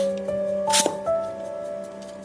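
A Beyblade launcher ripcord is yanked once, giving a short, bright zipping rasp in the middle of the clip over a steady background hum, close and fairly quiet.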